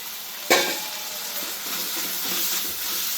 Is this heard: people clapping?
no